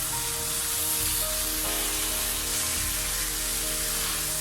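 Spicy mushroom masala gets stirred in a pan of oil, giving a continuous dense sizzle with faint scraping beneath, close and even throughout, with no voices.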